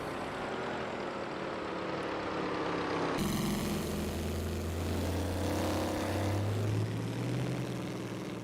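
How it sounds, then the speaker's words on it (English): Engine of an older 1920s Delage racing car in a racing game, a continuous droning roar whose pitch rises and falls as the car accelerates, fairly distant and steady throughout. "the sounds on that older Delage are quite something else"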